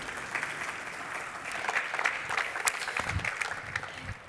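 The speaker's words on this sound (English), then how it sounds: "please do join me in giving our speakers a very warm round of applause" Audience applause for speakers at an Art Toronto collectors' talk, a steady dense clapping from a seated crowd that holds level throughout with a few sharper claps standing out.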